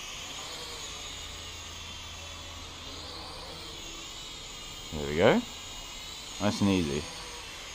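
A Syma X5C quadcopter drone flying, a steady high whine of small spinning rotors that holds throughout, with someone speaking briefly over it.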